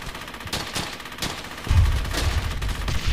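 Rapid bursts of automatic and single-shot gunfire in a World War II gunfight from Brothers in Arms: Hell's Highway, sharp repeated cracks over a heavier rumbling barrage that swells in the second half.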